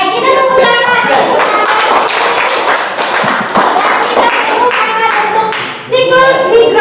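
A classroom of students claps in unison, loud rhythmic hand claps in a steady patterned beat, briefly pausing before resuming, with some chatter mixed in.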